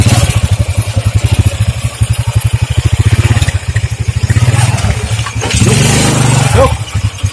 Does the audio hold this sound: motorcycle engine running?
yes